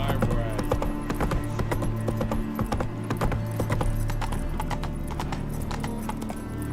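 Roach the horse trotting in the video game Witcher 3, steady close hoof clip-clop running throughout over game ambience and faint background voices.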